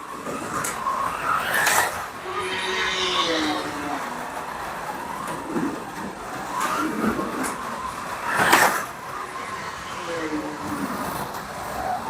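A BRM Datsun 240Z slot car laps a track with a continuous whirring motor drone that swells and fades as it passes, and sharp rattles on some corners.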